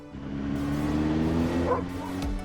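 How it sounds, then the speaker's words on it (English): A dog in a Greek town barks and yips near a passing car, a few sharp barks over a steady low engine hum. "A dog jumped at me again."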